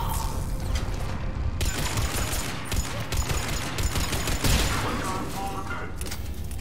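Turret gunfire in Mass Effect 3, dense rapid bursts of shots rattling almost continuously over a noisy battle backdrop, loud and close.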